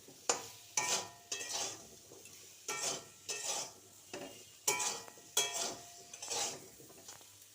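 Potato and cauliflower pieces fry with turmeric in a pan for alu fulkopi, rhythmic scraping and clinking strokes of a spoon stirring them every second or so over a soft, quiet sizzle.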